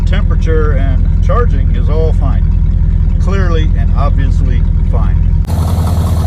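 An abandoned Ford Galaxie wagon's engine runs with a bad exhaust leak, a steady low rumble under someone talking throughout, with a brief shift in the noise near the end.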